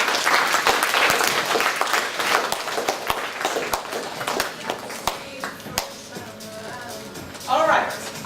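An audience claps to welcome a panelist onto the stage at a forum event, steady applause that thins out toward the end, with a voice talking over it.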